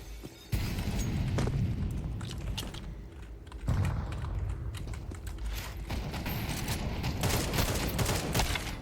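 Rapid bursts of AK rifle fire ring out in a Counter-Strike 2 match, with loud sharp onsets and dense gunfire crackle, mixed with keyboard-like clicking and game sound effects throughout.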